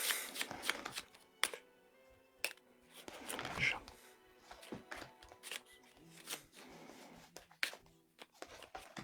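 A deck of tarot cards being shuffled and cut during a live fortune-telling session: papery riffles and slaps in bursts, close by, with a person talking in between.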